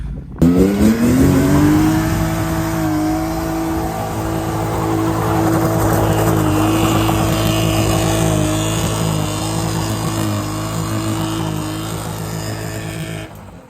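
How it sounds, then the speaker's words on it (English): A BMW E36 320i, freshly refreshed and fitted with a 4.44 final drive, is driven on the road while its new clutch beds in. The engine note climbs at the start, then holds a steady, loud droning hum throughout. "Yeah, let's break in the clutch."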